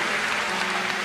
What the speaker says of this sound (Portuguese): Quem acredita nisso, aplauda ao Senhor e tome o seu assento.